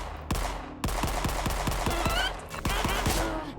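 Repeated pistol shots from a Mauser in the first-person shooter Forgive Me Father, firing in a steady rhythm of sharp cracks over continuous loud game background, with two brief breaks in the barrage.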